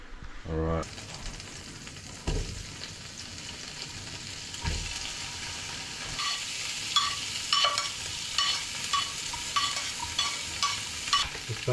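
Fresh-caught fish, snapper or whiting, sizzles in a pan with butter, with a steady frying hiss, a few clatters at the start, and louder spitting crackles building toward the end.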